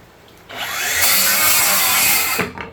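A Flex 24V cordless rear handle saw cuts through a cedar 2x10: the motor spins up, then a loud, steady cutting whine runs for about two seconds before it winds down fast on its brake.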